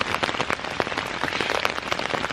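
Rain falling on a tent during a November overnight hike, a dense, steady patter of drops close on the fabric, loud and continuous with no voices.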